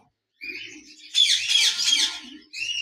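A pair of lovebirds calls close by in bursts of shrill, chattering chirps, with a brief quiet gap before the first call and a louder overlapping stretch in the middle.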